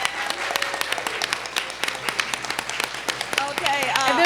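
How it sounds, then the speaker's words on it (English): Audience applause at a high school event, a scattered mix of individual claps over a steady crowd patter, with voices chattering underneath and rising toward the end. "Give them a round of applause, please."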